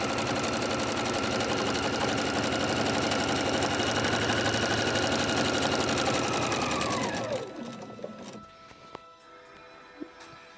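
Sewing machine running steadily at speed while stitching pet rag quilt fabric, a close, continuous mechanical whir that slows and stops near the end, followed by a few faint clicks and taps.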